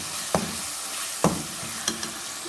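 Spice masala with salt frying for aloo methi, a soft continuous sizzle with three or four distinct spoon scrapes and knocks against the pan, close and quiet, no talking.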